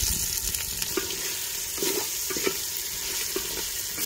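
Chopped onion and tomatoes frying in oil in a pan, with steady close sizzling and a few soft stirring scrapes and clinks, no voices.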